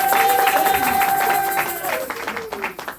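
A church congregation applauds, a fairly loud burst of clapping mixed with crowd murmur and a sustained tone underneath, thinning into scattered claps by the end.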